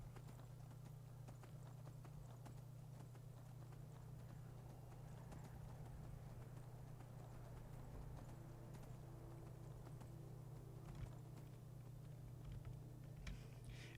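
Horse hooves pound in a steady galloping clip-clop while riding in the Skyrim video game, continuous and even over a low droning hum.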